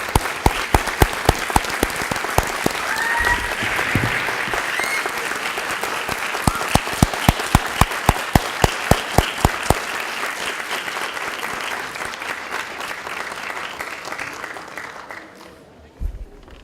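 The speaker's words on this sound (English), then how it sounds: "Can we give them a round of applause?" An audience at a graduate hooding ceremony applauds faculty from an education leadership department, dense clapping with some distinct close claps that trails off near the end.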